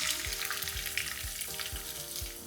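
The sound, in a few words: onions and green chili frying in oil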